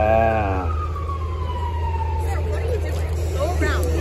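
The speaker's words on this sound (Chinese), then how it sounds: "二十多辆警车呀，啥大事儿啊？" Police car sirens wail close by on a city street in Flushing, Queens, a loud falling tone followed by overlapping, fluctuating yelps, with a person talking over them.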